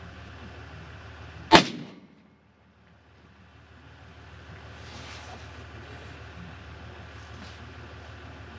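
A single loud, sharp unsuppressed 6.5 Creedmoor rifle shot cracks once near the start, with a short decaying echo, then steady low background rumble.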